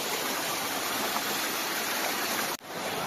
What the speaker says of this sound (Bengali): দেখ ঝর্ণাটা